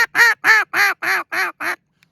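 Six evenly spaced, raspy hen quacks blown on a duck call held with its hole pointed toward the palm, giving a hollower tone; loud and close, each note short and clipped, followed by silence.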